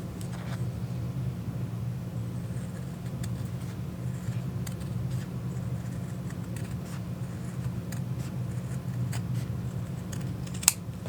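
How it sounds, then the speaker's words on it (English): Sharp scissors snip through a thick stack of felt layered with stabilizer, a steady run of close, crisp cutting clicks and crunches over a low background hum, with no talking. "I am cutting through many, many layers of felt plus that stabilizer"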